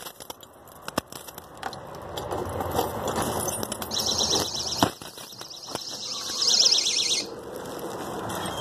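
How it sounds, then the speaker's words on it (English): A door alarm in an apartment building sounds as a thin high electronic warble in two stretches, amid clicks, knocks and faint handling noise, fairly quiet and distant. "There's an alarm on the door."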